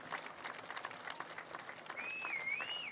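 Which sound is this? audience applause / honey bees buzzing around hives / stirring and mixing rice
audience applause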